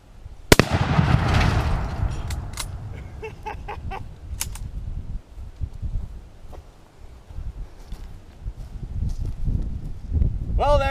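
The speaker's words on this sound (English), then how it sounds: "you'll just get to watch the explosion" A television packed with Tannerite blows apart outdoors in one sharp loud blast, followed by scattered debris thuds and faint rustling, with voices afterward.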